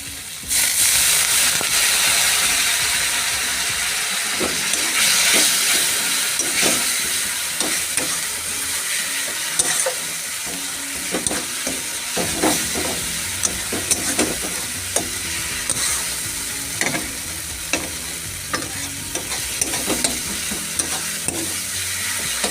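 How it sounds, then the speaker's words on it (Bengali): Ground chilli and other powdered spices stir-frying with a splash of water in oil for a catfish curry, a steady hissing sizzle overlaid by repeated sharp scrapes and taps of a spatula against the pan. "ভালোভাবে গুঁড়ো মশলাগুলো কষিয়ে নেবো। এভাবে অল্প জল ব্যবহার করব।"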